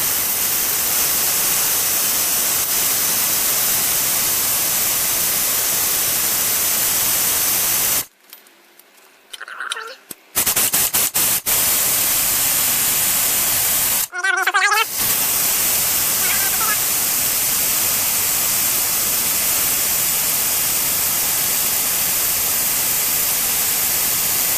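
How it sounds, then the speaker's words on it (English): Brake fluid is pulled with hose suction from the rear caliper of a 2001 Lexus IS300. It makes a loud, steady rushing hiss that cuts out twice, briefly, while a voice speaks in the gaps. "I'm going to give it some suction with the hose here."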